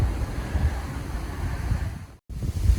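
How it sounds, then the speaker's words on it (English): Strong wind buffets the microphone with loud, low rumbling gusts, briefly dropping out before roaring back; no talking. "as you can probably hear, it's extremely windy"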